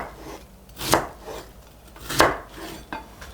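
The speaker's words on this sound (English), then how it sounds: "I like to cut it into thin slices like this" A knife cuts through peeled Korean pear on a board, two crisp chopping strikes roughly a second apart with soft handling noise between, close and clear with no talk.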